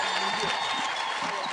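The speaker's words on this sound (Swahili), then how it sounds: "Tushangilie na makofi." Crowd at an outdoor political campaign rally in Kilgoris applauding steadily, a dense continuous wash of clapping with faint voices mixed in.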